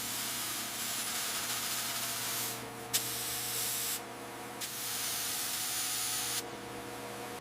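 Steady, hissing spray soaking a junkyard Mercedes S-Class, running nearly continuously with a few brief pauses and a low hum underneath.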